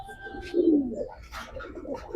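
Pigeons give soft, low, rolling coos close by, one throaty call after another in a quiet setting with no talk.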